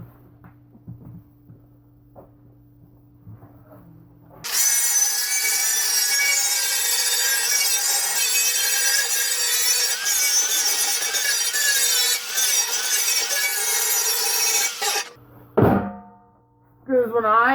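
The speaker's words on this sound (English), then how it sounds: "we gotta clean off some more paint here" Paint being stripped off a metal rocket stove: a loud, steady, harsh grinding scrape runs unbroken for about ten seconds, then stops abruptly, with quieter background noise before and after.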